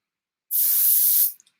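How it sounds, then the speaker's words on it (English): One steady hiss of suspension cleaner sprayed from a spray bottle onto a rag, lasting under a second, close and loud with a couple of faint drips after. "Nice little spray in the rag,"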